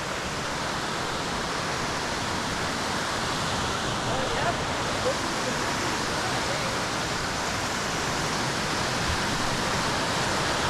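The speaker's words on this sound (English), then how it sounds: "river crossing is coming up" A river on a canyon descent from an upper meadow rushes loudly and steadily ahead of a crossing, a constant broadband roar with no pauses.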